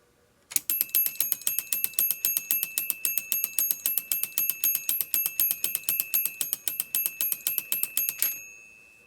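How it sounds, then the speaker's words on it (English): A TYCO 937 HO model railroad crossing bell rings with rapid, steady metallic dings from its electromechanical pendulum, loud and close for about eight seconds before stopping and fading away. "allow the spring action to have its effect on the pendulum and start ringing the bell"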